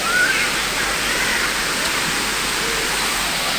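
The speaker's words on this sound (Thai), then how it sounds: "ก็จะมีชื่อว่าน้ำตกม่านขมิ้นนะครับ" The second tier of Huai Mae Khamin waterfall, called Man Khamin, pours in a steady, loud, hissing roar of falling water that stays constant and unbroken throughout.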